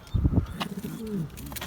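A pigeon coos close by in a series of soft, low, rolling calls, with faint background noise around it.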